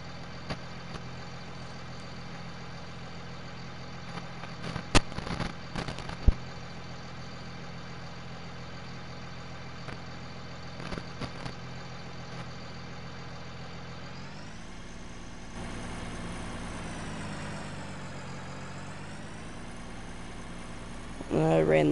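A 4x4 pickup truck engine in Farming Simulator 19 idles steadily, then revs up and holds a higher drone as it pulls away, with light clicks early on and a faint voice talking in places.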